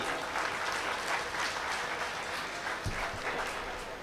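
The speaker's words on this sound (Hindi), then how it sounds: "आइए जोरदार तालियां बजाइए" An audience at an all-India mushaira in Siwan claps enthusiastically for the next poet, a steady, full burst of applause at moderate volume that runs through the whole stretch.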